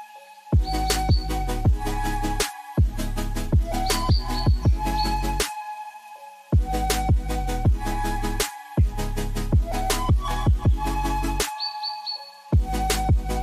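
Birds chirping and calling in a zoo walk-in aviary, with bright, repeated trilling phrases that come in loud, regular bursts separated by short pauses.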